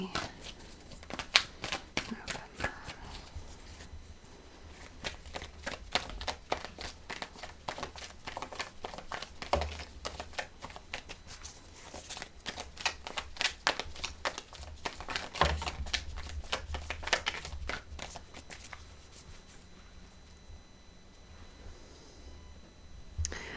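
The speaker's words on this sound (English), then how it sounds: "So let's shuffle this deck." A tarot card deck is shuffled over and over up close, producing rapid riffling flutters and soft slapping bursts of cards, fairly quiet, while someone talks throughout.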